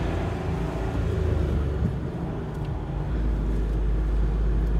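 A Mahindra Bolero Neo N8 with a BS6 diesel engine pulls away, its steady low rumble growing heavier toward the end, heard from inside the cabin with no talk.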